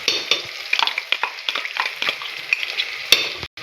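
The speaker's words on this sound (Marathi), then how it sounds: "आता हे थोडंसं भाजलं आहे, तेलामध्ये फ्राय झालं आहे." A ground paste of ginger, garlic, green chili and coriander frying in oil: a steady close sizzle broken by scraping stirs and occasional light utensil clinks against the pan.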